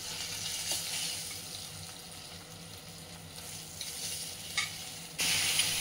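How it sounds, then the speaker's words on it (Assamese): Fish pieces for an Assamese fish curry fry in hot oil, giving a continuous close sizzle with a few faint clinks and a louder, denser burst of sizzling near the end. "আৰু মাছখিনি মই এনেকৈ গোটেইখিনি মাছ ভাজিম"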